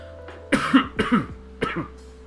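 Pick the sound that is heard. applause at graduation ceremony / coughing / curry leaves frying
coughing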